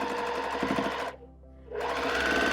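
A sewing machine stitches pieces of a quilt block at steady high speed, a continuous buzzing whir that stops briefly partway through and then starts again, heard close and alone.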